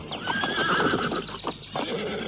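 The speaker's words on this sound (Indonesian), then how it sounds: "Kenapa kudaku yang semula tenang jadi beringas?" A horse whinnies wildly in an audio drama, giving a loud, shrill, wavering neigh close up, followed by snorting and restless hoof clopping, with no speech.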